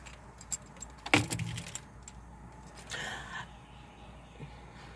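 A bunch of keys jangles in two short metallic bursts, one sharp and close and a softer one a couple of seconds later, against quiet indoor background noise.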